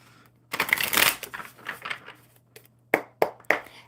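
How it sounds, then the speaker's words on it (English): Oracle cards are shuffled up close in a fast riffling burst, followed by a few sharp taps and snaps as the deck is squared. "One more good shuffle for Ricky."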